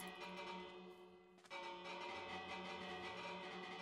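A church-bell-style doorbell rings in Minecraft, a sustained, resonant chime with steady tonal overtones that carries on faintly and evenly throughout.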